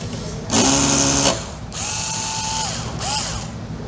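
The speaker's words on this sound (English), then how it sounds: "I'm going to remove these 2 front screws" A power screwdriver removes two front screws from a charger in short bursts: one loud whirring run, then two briefer ones with pitch sweeping up and down, close and with no talking.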